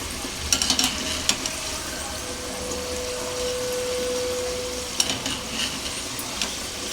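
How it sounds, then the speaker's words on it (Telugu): Chitti kaja sweets deep-frying in hot oil during a second fry, giving a steady bubbling sizzle with a faint tone running through it and a few clinks of a utensil at the start and near the end. "లోపల దాకా వెళ్ళి వేగుతాయి అన్నమాట రెండోసారి వేయించుకుంటే"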